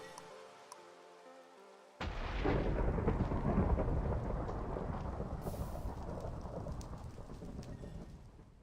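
A thunderstorm in the video game Sky Factory 5 breaks in with a sudden loud thunder crack, then settles into a sustained heavy roar of rain and rumbling that carries on to the end.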